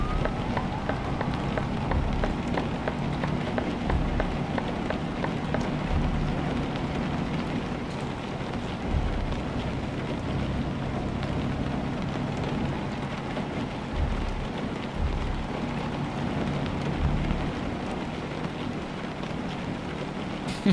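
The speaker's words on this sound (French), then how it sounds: "Oh la pluie" Rain in the Euro Truck Simulator 2 driving game, falling at night during a test drive of a 2023 DAF XD truck on a slippery 10% slope, a steady, dense hiss heard throughout alongside a low engine rumble.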